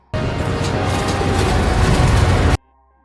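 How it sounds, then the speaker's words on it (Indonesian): A loud, dense train rumble roars for a couple of seconds with rattling and low engine drone as the train enters a tunnel, then cuts off abruptly into near silence. "kereta memasuki terowongan"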